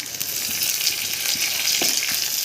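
Chopped onion, garlic, ginger, cumin and a few curry leaves fry in a pan for dal palak, giving a steady, close, bright sizzle throughout with a few soft stirring clicks.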